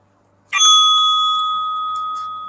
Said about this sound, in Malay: Loceng pertama akan dibunyikan apabila sesi pembentangan video bermula